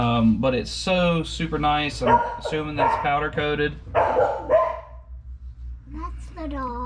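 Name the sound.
dog barking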